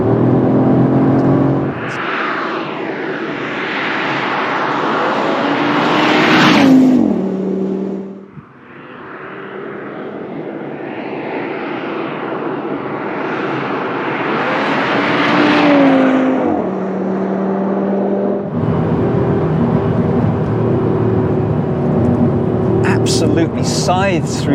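A 2025 Audi RS3 drives hard along an empty winding road, its engine rising and falling through gear changes with a brief lift-off dip midway, loud and continuous from inside, with a voice talking over it.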